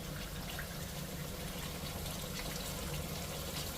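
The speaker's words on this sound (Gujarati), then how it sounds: "હવે થોડું નાખી દઈશું પાણી." Water is poured into a pan of spiced potatoes cooking in yogurt and oil, a faint steady trickle and splash heard close by with no talking.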